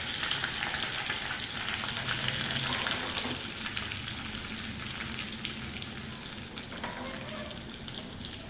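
Chilli, curry leaves and asafoetida hit hot oil for a tempering, making a close, continuous crackling sizzle that is strongest early on and settles into steady frying.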